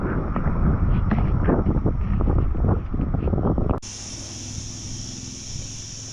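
Strong gusty wind buffets the microphone for several seconds on a beach walk, then cuts to a quieter, steadier background hum.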